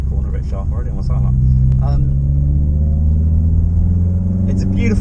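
A Citroen C4 VTS 180 corners on the Bedford Autodrome GT circuit, its engine a steady loud in-cabin drone with rising harmonic tones, while the driver talks over it.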